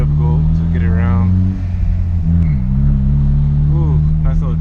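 A car accelerates with a brief tyre chirp, the engine loud and close as it revs up, with someone talking over it.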